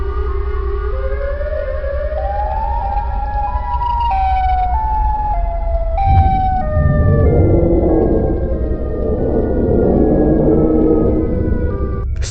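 Siren Head, a cartoon creature, lets out a loud wailing siren that rises in stepped, gliding tones, then turns rougher and more chaotic as it continues, with no talk over it.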